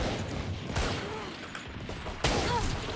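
A few scattered gunshots in a Valorant match, fairly faint and spaced apart, with sharp bursts near the start and toward the end over low background noise.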